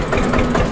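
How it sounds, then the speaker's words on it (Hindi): A tractor engine runs steadily at close range on a farm, a loud continuous low rumble with no pauses or voices. "अब ट्रैक्टर को चल दिए लेके घर की तरफ"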